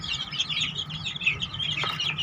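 Several native country chickens cluck and chatter together nearby on a farm, a busy overlapping stream of clucks with a faint low hum beneath.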